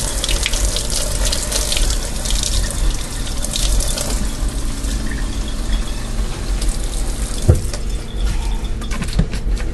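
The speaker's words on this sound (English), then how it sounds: "so I'm just going to run a little hot water in here." Hot tap water runs steadily into nearly empty sauce bottles at a kitchen sink, a continuous close gushing and splashing with no talk.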